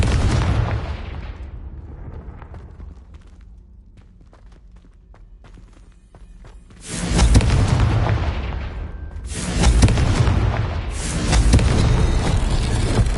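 Confringo spell blasts in a PS4 video game: a loud booming explosion at the start, a quieter stretch of faint ticking, then a roaring sequence of heavy, sustained blasts that stay close and dense through the end.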